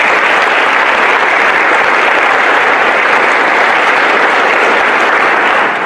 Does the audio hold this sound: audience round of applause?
yes